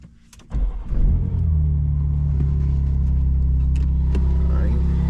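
A BMW M2 with a catless downpipe and tune cold-starts with a brief crank and then catches into a loud, deep, steady idle that drones on close by.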